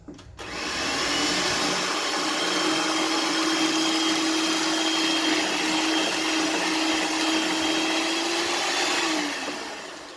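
Electric mixer beating a cheesecake mixture with veg gelatin added, starting abruptly and running as a steady, loud, continuous whir for about nine seconds before winding down.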